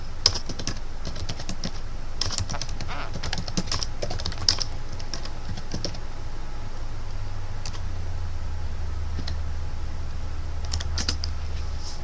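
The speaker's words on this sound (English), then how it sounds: "You want to type in Google AdWords keyword tool external" Rapid typing on a computer keyboard, a dense run of close, crisp key clicks over a low steady background hum, with no voices.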